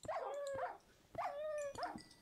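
Dogs in a Minecraft video game give two pairs of short, yelping barks, near and fairly loud, with brief pauses between them.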